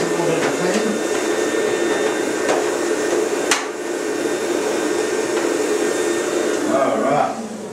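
A vacuum cleaner runs steadily close by during a cleaning demonstration, its broad whooshing drone continuous for the whole stretch with a couple of brief knocks and a slight drop in level near the end.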